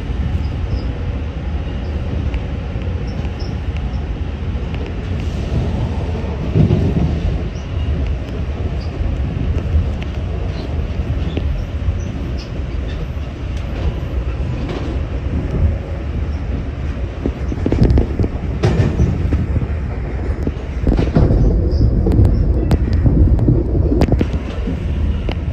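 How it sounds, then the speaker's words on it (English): A train rolls past on the railway, a loud, continuous rumble of wheels and engine with rhythmic clacking from the cars, swelling heavier toward the end. "So after that train went by, we all decided to call it a day."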